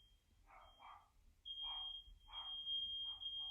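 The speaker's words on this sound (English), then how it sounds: "It's the smoke alarm." A smoke alarm sounds a steady high-pitched tone that starts faint, then turns loud and continuous, with short bursts of dog barking mixed in.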